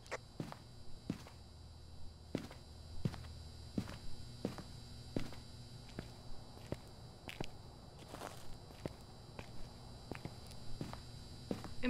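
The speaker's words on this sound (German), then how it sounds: "Ich höre Schritte und Sachen." Steady footsteps in the Phasmophobia video game, set in a farmhouse, falling in an even walking rhythm of soft repeated thuds over a constant low background hum, with no talk.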